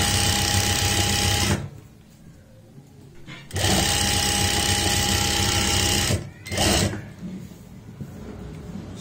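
A sewing machine stitches a seam on palazzo fabric in steady mechanical bursts: two long runs and a brief one, each separated by short pauses, close and fairly loud.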